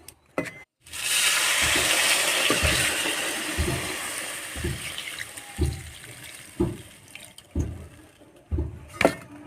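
Water poured into a pot of potato curry, a loud steady splashing stream for several seconds, then tapering off into scattered clinks and knocks.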